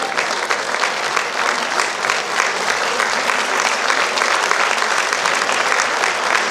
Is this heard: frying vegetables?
no